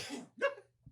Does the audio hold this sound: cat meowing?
no